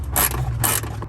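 A ratchet wrench loosening a car's ground bolt: two bursts of bright metallic clicking a half second apart, fairly close and loud over a steady low hum.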